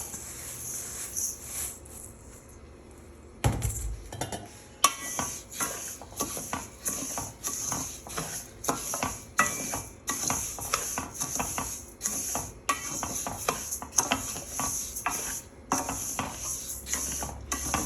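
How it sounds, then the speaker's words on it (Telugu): Rice dry-roasting in a pan for a toddler porridge, stirred steadily with a utensil that scrapes and clinks against the pan in a dense, continuous rhythm, close and fairly loud, with no talking. "ఇప్పుడు రైస్ వేస్తున్నాం."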